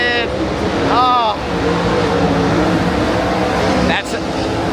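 Race cars roar steadily at Tolmer Speedway in Australia as a dense, continuous engine drone, with engine pitch rising and falling and a few higher whining passes.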